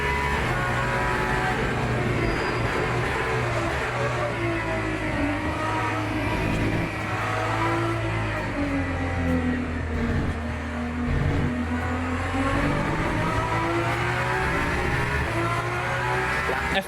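Racing car engines in a video game, including a Porsche and a Mustang, rev hard and drone continuously, with pitch sweeping down and back up through the gears as the cars race close together.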